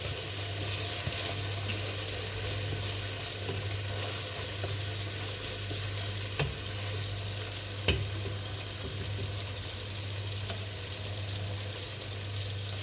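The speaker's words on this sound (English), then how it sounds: "So our onions are busy sizzling." Onions fry for a curry in a hot pan, giving a steady, dense sizzle and crackle that carries on throughout with a few faint clicks and no talking.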